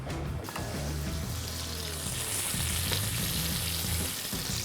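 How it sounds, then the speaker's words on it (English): Steak sizzling loudly in a hot pan while preparing a romantic dinner, a dense steady frying hiss with crackling spatter that runs continuously and close. "You know the pan is hot enough if you hear the right sizzle."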